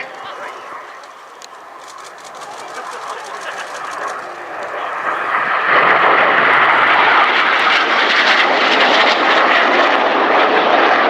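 Jet aircraft roar past at an airshow, the engine noise swelling from a distant rumble into a loud, sustained broadband blast that holds to the end.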